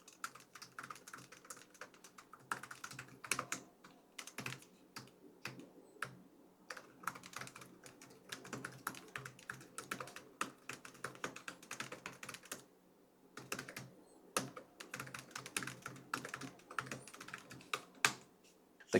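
Quick, crisp key clicks from typing on an ASUS Zenbook A14 laptop keyboard, coming in bursts with brief pauses, quiet and close.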